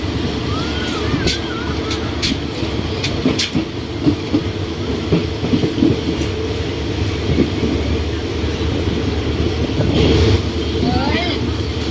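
Loud continuous rumble of an ordinary Thai passenger train rolling along the elevated track between Bang Sue Junction and Don Mueang, with occasional metallic squeals and clatter over a steady roar.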